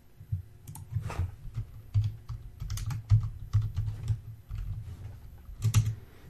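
Java code is typed on a computer keyboard: close, rapid, irregular key clicks in quick bursts with short pauses, and no voices.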